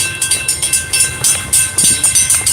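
A train rolls past close by, its wheels beating a steady, loud clickety-clack rhythm over the rail joints, with no voices over it.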